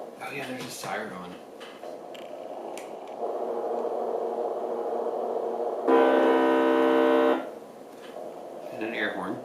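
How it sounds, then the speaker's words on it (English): An emergency vehicle siren and horn system is switched between tones, and a loud steady electronic tone holds for about a second and a half, surrounded by quieter horn sounds and talk. "Oh yeah, there's a siren on."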